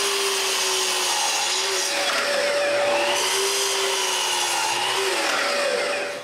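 Power tool cutting wooden rails for a stub-tenon bookcase frame, a steady loud whine with a grinding, rasping edge that shifts in pitch as the blade bites, close up.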